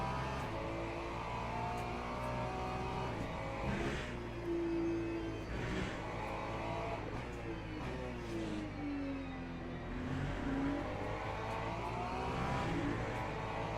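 An LMP3 race car in a racing video game sweeps past with a sustained engine roar, its pitch rising and falling through gear changes over steady track noise, loud and close throughout.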